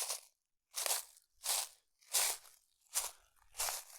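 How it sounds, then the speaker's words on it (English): Six crisp, crunchy footsteps at an even walking pace through thick autumn leaves on a woodland path in the New Forest, each a dry rustling crunch separated by brief silence, close and clear. "Walked into the woods"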